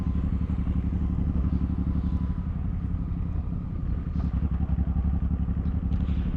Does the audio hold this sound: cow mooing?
no